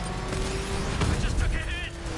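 Video game gunfire in a car chase after Batman, scattered shots and mechanical clatter under a constant engine roar, with radio-style talk over the noise.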